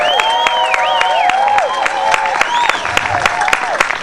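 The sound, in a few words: crowd applause for a Mardi Grass parade float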